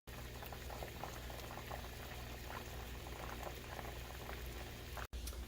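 Homemade apple cider simmers in a pot with a steady, close bubbling boil that runs evenly the whole time, with no voices.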